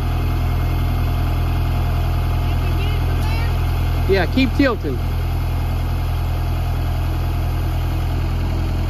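A farm tractor's engine idles steadily throughout, a constant low droning hum with a brief voice speaking over it midway.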